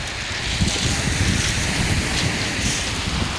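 Strong sea waves crash along the Étretat promenade against the walls and breakwater, a loud, continuous roar blended with gusting wind noise and no pauses.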